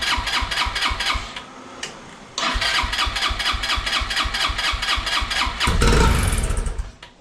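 A small barn-find buggy engine cranks and catches, its steady rapid firing pulses running close and loud, pausing briefly, then restarting and revving harder near the end.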